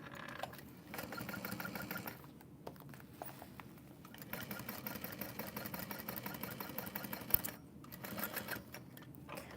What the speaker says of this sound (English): I'm going to sew that shut